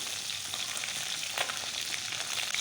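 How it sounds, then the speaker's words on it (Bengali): Fish from the sea frying in hot oil in a wok as the pieces are flipped, a steady close crackling sizzle with a brief louder spatter partway through. "আমি মাছগুলো তেলে দিয়ে ভাজি করে নিয়েছি। এখন মাছগুলো উল্টিয়ে দিচ্ছি।"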